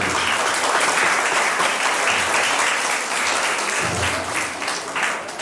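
A crowd at an arts celebration applauds vigorously, a loud, dense, continuous clapping that swells briefly and then eases slightly toward the end, heard on its own.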